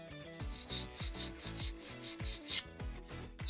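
Guitar frets are sanded during levelling and crowning with a steady back-and-forth rasping stroke, about ten even rubbing passes, close and alone.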